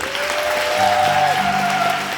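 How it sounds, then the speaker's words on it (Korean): A short burst of steady theatre applause rises at the curtain call of the musical Geunaldeul, with dense clapping over sustained music from the band. "다시 한번 큰 박수 부탁드립니다."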